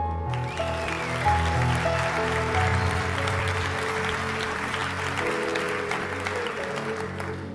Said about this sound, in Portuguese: Quem pode aplaudir?